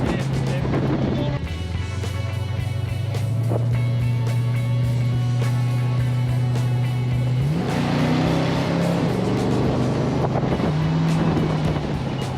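An old GM Buick car engine runs steadily and close by, a deep low rumble that shifts pitch as it revs, with wind buffeting and a voice talking over it.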